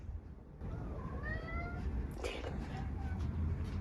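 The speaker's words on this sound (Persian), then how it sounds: "پیشی کوچولوهای خونمون رو ببینید آقا چقدر خوشگلن" Several small house kittens, offspring of a pet mother cat, give soft, high rising mewing calls one after another over a steady low background hum, fairly close by.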